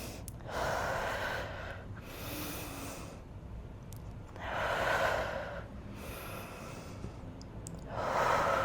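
Deep, slow breaths during a bodyweight full-body workout: four long, soft exhalations come at a steady, unhurried rhythm, close and clear against a quiet room with no talking.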